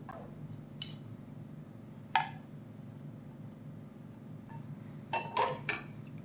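Roasted semolina being scraped from a pan onto another plate, with sparse metallic scrapes and clinks of a utensil against cookware, a louder knock around two seconds and a cluster of clatters near the end, otherwise quiet.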